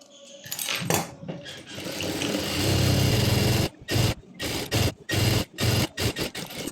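Sewing machine stitching a palazzo pant, a long continuous whirring run followed by several short start-stop bursts with clicks in the pauses, close and loud.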